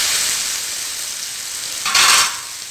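Flat beans and brinjal sizzle and crackle steadily in hot oil in a pan, loud and close, with a brief louder burst of hissing as the vegetables are stirred.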